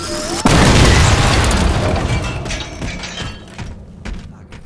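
Explosion in the Halo 4 video game: a sudden heavy boom bursts in after a brief quiet start, then a dense rumbling, crackling debris tail slowly decays over several seconds.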